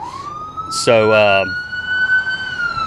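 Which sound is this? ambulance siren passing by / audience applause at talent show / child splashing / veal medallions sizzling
ambulance siren passing by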